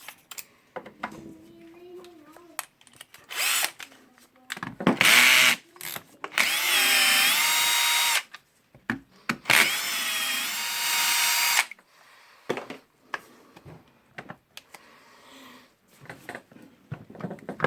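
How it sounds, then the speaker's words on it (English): A power driver loosens the back cover screws on a Hitachi H60MR demolition hammer, whirring loudly up close in three main sustained bursts mixed with shorter spins, clicks and handling knocks between them. "So I will unscrew them."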